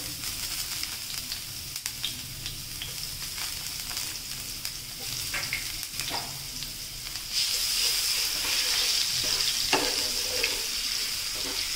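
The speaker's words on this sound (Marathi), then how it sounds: "लसूण आपण तेलामध्ये मिक्स करून घेऊ, म्हणजे तेलासोबतच लसूणसुद्धा चांगलं तापेल." Minced garlic sizzling in hot oil in a pan for a Katla fish fry, a steady crackling hiss that grows louder and brighter partway through, with occasional stirring clinks.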